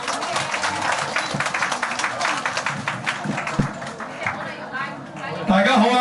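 Audience applause fills a hall at a charity banquet for elderly guests, a steady dense patter of many hands clapping amid crowd chatter, with a louder burst near the end.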